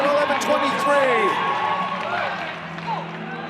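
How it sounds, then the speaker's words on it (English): A small but loud crowd cheers steadily through an indoor track 5k race, a continuous roar with rising swells and scattered shouts, carried under a commentator's talk. "the crowd much louder than they are in numbers"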